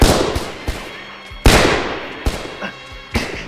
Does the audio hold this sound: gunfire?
yes